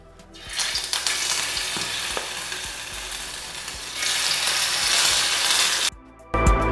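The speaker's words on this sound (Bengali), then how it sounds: "তেল গরম হয়ে গেছে, এবার আমি ম্যারিনেট করে রাখা পনিরগুলোকে একটা একটা করে দিয়ে দেবো।" Marinated paneer pieces drop one by one into hot oil and fry with a loud, steady, crackling sizzle that swells partway through and cuts off briefly near the end.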